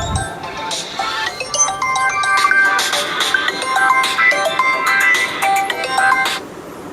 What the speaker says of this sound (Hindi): फ़ोन आ गया था किसी का